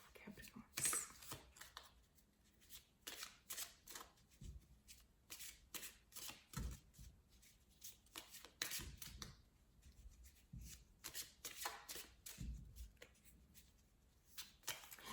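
Tarot cards being shuffled, soft repeated riffling and flicking close by at low volume, continuing steadily throughout with quiet intermittent speech.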